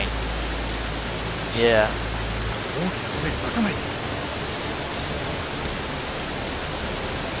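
Heavy rain in the video game Steins;Gate 0 hisses as a steady, wide wash of noise, with a brief voice cutting in near the start and a few faint chirps over the downpour.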